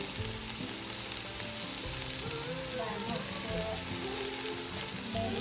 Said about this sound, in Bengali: এখন আমি এখানে একে একে মশলাগুলো অ্যাড করে দেবো